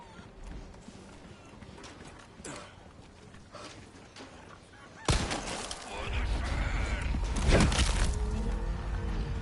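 A chicken squawks and clucks in the Resident Evil 4 Remake game, with sharp bursts over game ambience that swells louder and busier partway through, with other creature and clattering effects layered in.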